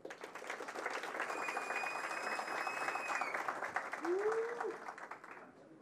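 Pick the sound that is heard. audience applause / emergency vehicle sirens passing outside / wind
audience applause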